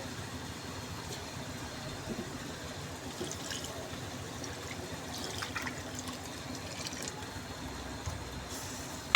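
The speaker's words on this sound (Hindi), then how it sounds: "आपने इसके अंदर पानी ऐड कर देना है" About two glasses of water splash and trickle steadily into a cooking pot for chicken and potato soup, a soft continuous pour with faint background hum and no talking.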